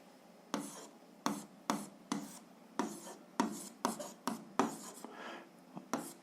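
Pen scratching on paper during an algebra exercise, a series of short, quiet strokes and taps with brief pauses between them.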